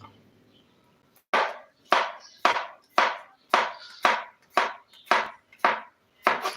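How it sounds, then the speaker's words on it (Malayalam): Garlic being chopped finely with a knife on a cutting board, a steady series of about ten crisp, close knocks at an even rhythm, with no talking. "ഇത് ചെറുതായിട്ട് ഈ കാണുന്ന രീതിയിൽ നമുക്കൊന്ന് അരിഞ്ഞു കൊടുക്കാം നമ്മളെ വെളുത്തുള്ളിയാണ് കേട്ടോ പരിയുന്നത്"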